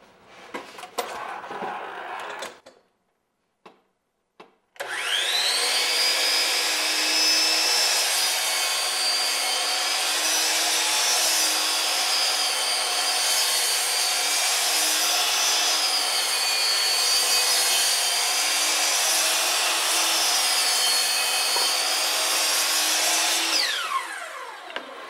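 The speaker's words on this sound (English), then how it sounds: "So we've just cut the 15 degree angle on this edge" A power saw cuts a 15 degree angle along the edge of wood paneling, a loud sustained whine of about twenty seconds after a few short clicks and bumps, ending as the blade spins down.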